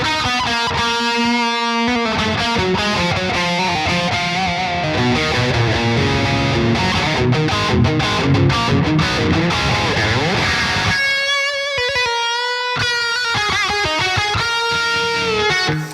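An electric guitar played through a Bogren Digital amp plugin with reverb rings out in sustained, chiming chords and melodic notes, loud and close, with a brief break before a cleaner, reverberant passage and no talking.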